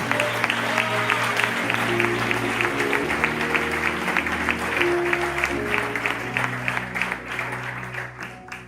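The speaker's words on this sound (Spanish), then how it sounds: "Dale un fuerte aplauso a Dios" A church congregation at a Spanish Bible study applauds loudly and steadily for several seconds, dense clapping fading slightly toward the end, with a low musical drone or voice tones running underneath.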